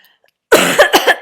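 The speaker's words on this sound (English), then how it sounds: "So I'm going to cough again." A person coughs indoors, a harsh burst followed by several quick rougher coughs, close and loud against otherwise silent surroundings.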